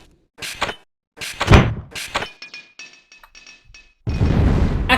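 Alternate fire of an old weapon in Unreal with the OldWeapons mutator, a run of sharp metallic bursts and clinks with short ringing tones, ending in a sustained loud noisy blast.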